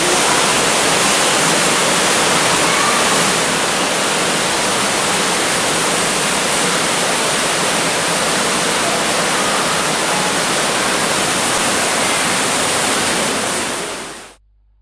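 A waterfall of more than 30 metres pouring inside an artificial grotto at Buttes Chaumont park in Paris, a loud, steady, deafening roar of falling water that holds unbroken for about fourteen seconds before cutting off abruptly.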